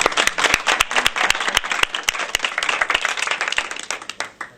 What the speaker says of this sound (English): So a big round of applause, because I know how big it is.